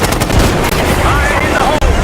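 Heavy gunfire rattles through a Call of Duty: Black Ops 6 combat mission, with dense bursts of automatic fire that are loud and continuous, mixed with voices.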